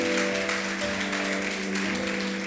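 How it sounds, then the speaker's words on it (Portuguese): Steady applause from a church congregation fills the space, a dense continuous clapping with a faint tonal hum underneath. "Se você crê, aplauda o Senhor bem forte"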